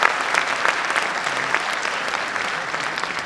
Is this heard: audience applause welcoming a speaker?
yes